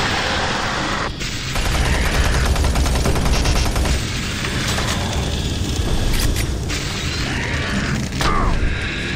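Rapid gunfire from the video game Doom 3 Resurrection of Evil, with dense bursts of shots, booms and mechanical clatter, loud and close throughout with brief pauses between volleys.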